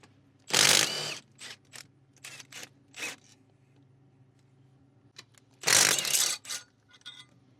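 A ratchet works loose the 14 mm bolts on a failed Subaru Forester A/C compressor, with bursts of rapid close clicking separated by short pauses and softer taps.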